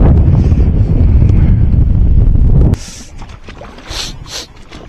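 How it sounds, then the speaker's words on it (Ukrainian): Loud, roaring southerly wind buffets the microphone on the Dnipro, then drops off abruptly partway through, leaving quieter splashing and rustling from the water. "Зараз якраз вітер йде південний, е, з Черкас йде вітер."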